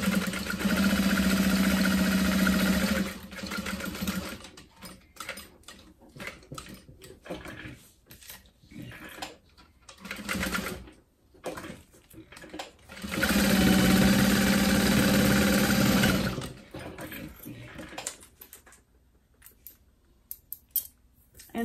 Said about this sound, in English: I'm gonna sew along all four sides of this rectangle.